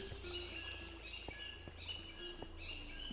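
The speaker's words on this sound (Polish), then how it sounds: "Ach, te odgłosy ptaków cudowne." Bird calls in the Minecraft video game, a few short chirps and whistles repeating faintly over a steady low ambient background with occasional soft ticks.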